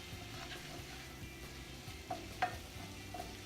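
Kale pasta with lemon juice being stirred in a pan, a soft low sizzle with light scraping and a couple of faint clinks, fairly quiet throughout.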